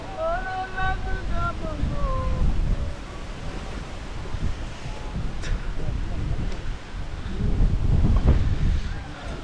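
Strong wind buffets the microphone on a hilltop in Fiji, a steady rough roar surging louder toward the end, with a brief high whistle at the start.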